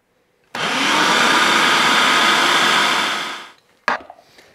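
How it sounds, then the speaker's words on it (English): A food processor runs loud and steady for about three seconds, blending pie dough with ice water added through the feed tube, then cuts off, followed by a short clatter. "add 1/3 cup or 80 mils of ice water through the feed tube while the machine is running"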